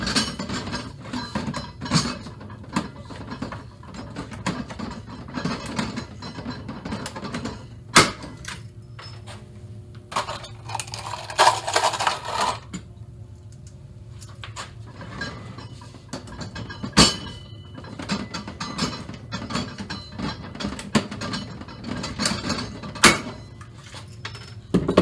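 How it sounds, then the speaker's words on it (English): Pop rivet gun setting rivets around a wrench holder, giving a series of sharp mechanical snaps and clicks spaced irregularly over a steady low background hum, fairly close and alone without talk. "Just putting the last couple pop rivets in."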